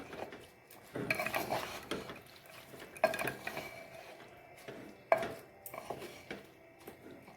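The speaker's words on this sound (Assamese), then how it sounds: "সুন্দৰকৈ লৰাই দি আছোঁ দেই।" A spoon stirs and scrapes rice over meat in a cooking pot for biryani, in three or four separate bursts of clattering and scraping against the metal with short pauses between them.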